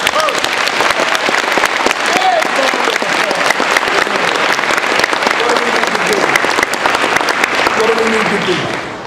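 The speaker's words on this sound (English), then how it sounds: "Give this guy a round of applause." Sustained applause from a high school assembly audience at an anti-bullying stand-up show, loud and dense throughout with scattered cheers and voices mixed in.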